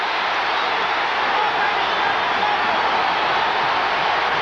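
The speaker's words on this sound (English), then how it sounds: "It got the crowd pretty excited" The arena crowd at a 1980 heavyweight boxing bout between Mike Weaver and John Tate roars after a punch lands. The noise is a dense, steady wash that stays loud and unbroken throughout.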